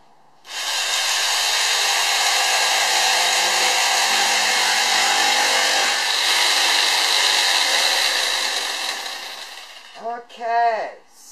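Power tool cutting a notch in a teardrop trailer profile, a loud steady broadband whine running about nine seconds before cutting off, followed by a brief voice at the end.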